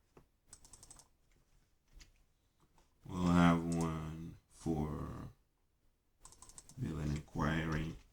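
Computer keyboard typing sounds as quick, light clicks in the gaps between bursts of a person talking, soft and close, mostly under and around the speech.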